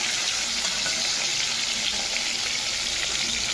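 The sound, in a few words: fish frying in pan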